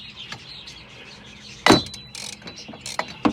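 A 1/2-inch ratchet twists loose a tie rod end on a 2005-06 Toyota Corolla XRS, giving sparse metallic clicks and one sharp louder burst mid-way, followed by a few quicker close ratcheting snaps.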